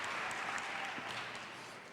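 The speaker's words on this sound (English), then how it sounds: "I wasn't expecting that final cheer after the bio." A commencement crowd greets Baltimore Mayor Sheila Dixon with applause, a faint, steady wash of clapping heard from a distance that eases off slightly by the end.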